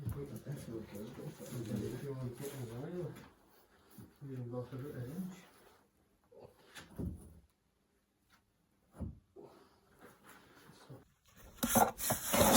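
A brick is eased into the mortar bed of a fireplace being built, giving short gritty scraping and rubbing sounds between stretches of someone talking nearby.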